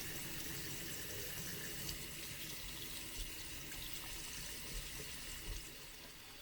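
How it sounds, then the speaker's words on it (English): Sink tap running steadily as a toothbrush is rinsed under it, a constant close rush of water with no pauses. "I was able to grab it and rinse off the toothbrush."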